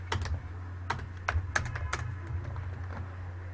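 Code typed on a computer keyboard: a quick run of sharp, close key clicks in an uneven rhythm, clear over a low steady hum, with no talking.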